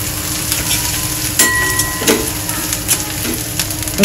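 Jackfruit bhaji sizzles steadily in hot oil with onions as ground tilkut is stirred in, a continuous close frying hiss broken by a few soft spoon scrapes and clinks.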